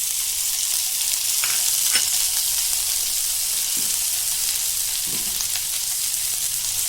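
Thin strips of pointed gourd and potato fry steadily in oil in a pan for a Bengali fish curry dish, a dense, even sizzle throughout with a few soft scraping stirs.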